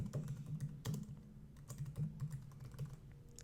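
Fingers type on a computer keyboard in quick, uneven bursts of soft clicks, with short pauses between groups of keystrokes, close and quiet with no talking.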